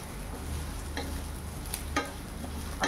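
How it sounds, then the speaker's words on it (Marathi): Sev noodles stirred in hot oil in a pan over a low gas flame, with a soft steady sizzle and a few light scraping strokes of the spoon, close by and fairly quiet. "गॅस कमी गॅसवर ना ही सेव ऑइलमध्ये छान कुक करून घेणार आहे. तर ह्याला असं हलवत राहायचं"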